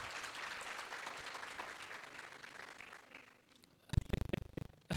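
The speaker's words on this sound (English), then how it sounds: "Please give him a round of applause." An audience claps at a cooperatives accelerator bootcamp session, steady applause that fades over about three seconds, followed by thumps and handling noise near the microphone.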